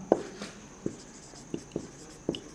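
A pen or pencil writing out a math answer during a class 9 maths lesson, giving faint scratchy strokes in a steady rhythm of about five short marks over soft room noise.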